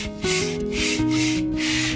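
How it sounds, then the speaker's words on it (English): Rough, rhythmic scraping strokes against an old bicycle frame as dirt and rust are cleared off, a close and steady rasping with no voices. "He scraped all the dirt and rust off the frame."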